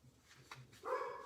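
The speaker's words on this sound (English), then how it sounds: "I'm really sorry about that barking." A quiet dog bark or yip, short and somewhat distant, with a brief whimpering tone at the end.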